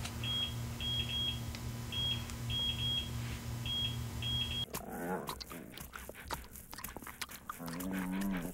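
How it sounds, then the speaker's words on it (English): A high electronic alarm beeps in short repeated pairs over a low steady hum for several seconds, then stops as a burst of speech and studio noise takes over. "What is that beeping?"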